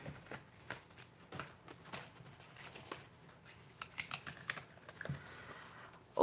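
Pages of a paper planner are flipped through at close range, giving quick, soft papery riffles and taps in an uneven rhythm against a quiet room.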